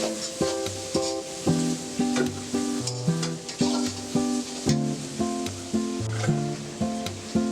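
Carrots sizzle in a frying pan for fried rice: a steady frying hiss with light stirring, heard under rhythmic background music with regular plucked notes.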